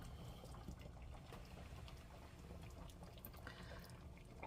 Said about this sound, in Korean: 지금 이렇게 보글보글 끓고 있는